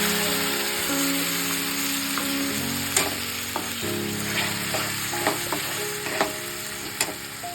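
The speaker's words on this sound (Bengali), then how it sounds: "একে একে আস্তে আস্তে সমস্ত রকম মশলা দিয়ে তরকারিটা রান্না করে নেব" Curry cooking in a wok with spices, frying with a steady close sizzle while a utensil scrapes and stirs in several sharp clicks against the pan, with no talk.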